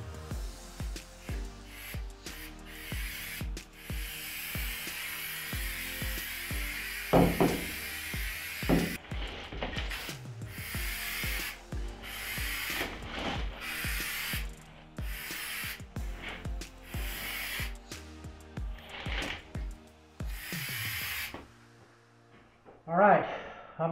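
Aerosol can spraying inside a truck bed cap lined with Reflectix insulation, heard as repeated hissy bursts of varying length at close range, separated by rustling, handling clatter and brief talk.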